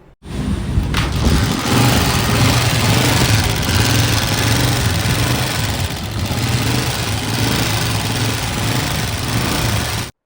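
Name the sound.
Honda CG125 motorcycle engine running with a noise problem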